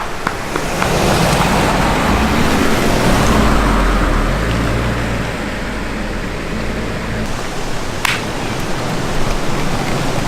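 A car passes on a wet road on a rainy day in Hawaii, its tyre hiss swelling loud and close before fading back into steady rain noise.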